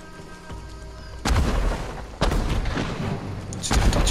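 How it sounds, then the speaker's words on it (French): Fireworks in Ghost of Tsushima go off as deep booming bursts, three or four heavy cracks with rumbling tails layered over game ambience, loud and close. "C'est des feux d'artifice en fait."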